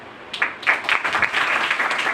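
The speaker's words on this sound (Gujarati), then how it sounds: "તાળીઓ." Applause from an audience at a Gujarati reading-inspiration event for school students, a dense patter of hands building after a quiet start and holding steady through the end.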